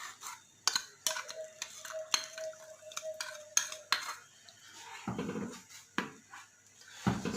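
A spoon stirs liquid into a hot mixture in a pot, making a string of sharp metallic clinks and scrapes at an uneven pace. It is close and moderately quiet, with no talking.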